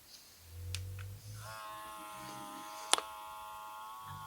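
A small electric vacuum pump for sealing juice, a common Amazon model, runs with a faint, steady buzzing hum for several seconds after a brief lower motor start, and a sharp click is heard partway through.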